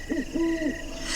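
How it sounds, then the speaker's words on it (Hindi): An owl hoots in a forest at night, a few soft, wavering low calls in quick succession, clear and fairly close over a faint hiss, with no talk. "कहीं उल्लू की चीख,"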